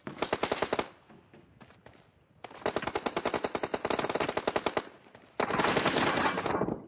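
Rapid automatic gunfire in a PUBG team deathmatch comes in three loud, sustained bursts separated by short pauses, with no voices over it.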